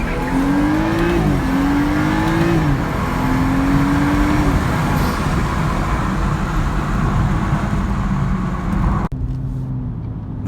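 A modified BMW 435i accelerates, its engine note climbing and dropping through gear changes over a steady loud roar inside the cabin, ending in a brief sharp release near the end.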